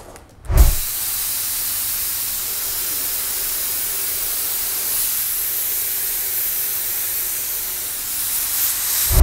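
A spray can of paint for hydrographics hisses out a steady, continuous spray for most of the clip, close and loud, starting just after a brief knock near the beginning and running unbroken to the end.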